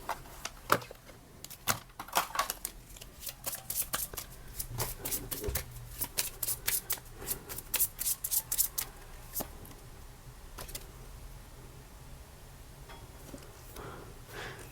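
A deck of tarot cards being shuffled up close, with rapid crisp riffling bursts and clacks in irregular runs that thin out toward the end, with no voice over it.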